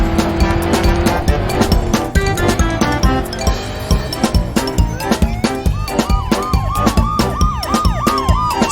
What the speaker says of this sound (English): Soon the car was surrounded by police cars.